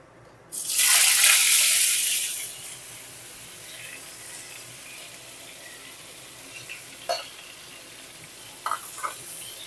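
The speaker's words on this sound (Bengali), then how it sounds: "এই তেলের মধ্যে এবারে ফুলকপিগুলো তুলে দেব।" Cauliflower florets drop into hot mustard oil in a kadai, setting off a loud burst of sizzling that fades into a steady low frying hiss, with a few faint scrapes and clinks later.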